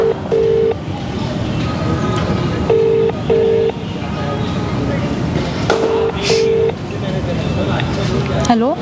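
A phone call on speakerphone rings out with repeated pairs of steady electronic ringback tones over a noisy background hum, with a rising chirp at the end as the call connects.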